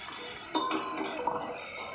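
A lid goes onto a pan of frying drumstick greens with onion and garlic. A sharp metallic clank lands near the start, followed by a softer clink and light rattling against a steady sizzle.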